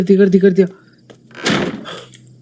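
Someone speaks, then a door in a horror video game gives one heavy, noisy thud that trails off into a brief rattle.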